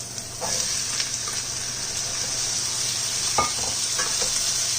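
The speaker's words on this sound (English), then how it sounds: "my onion and my garlic are just now beginning to brown. So I'm going to add our beans right here" Kidney beans, two cans rinsed, tipped into a pan of onion and garlic just starting to brown, raising a steady close hiss of frying with a few scraping stirs and soft clinks.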